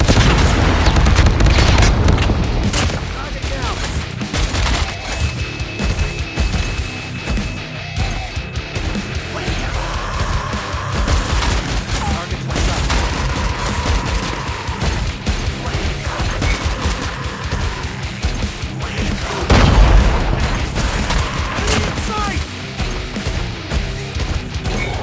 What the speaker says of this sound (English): Be advised, hostile predator missile inbound.